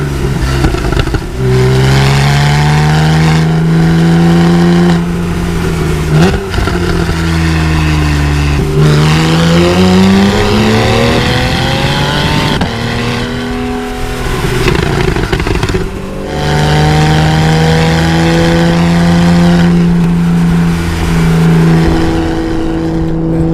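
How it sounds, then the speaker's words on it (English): A Porsche 911 GTS driven hard along a twisty country road, its engine loud and close as it climbs through the revs, drops off between shifts and surges again, with no voices over it. "I hope you enjoy the sights and sounds of the 911 GTS out on a country,"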